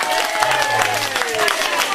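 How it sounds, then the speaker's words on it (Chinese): Crowd at a family clan association gathering applauds warmly, a steady patter of many hands throughout, with voices mixed in. "我们热烈的掌声，好不好？"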